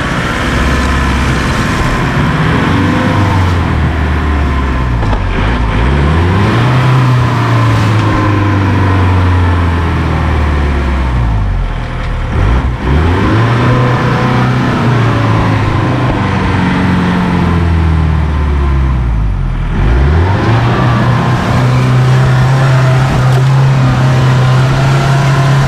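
A Mahindra 4x4 jeep stuck off-road, its engine loud and close, revving up and dropping back several times as it strains in reverse, then holding a steady high rev at the end.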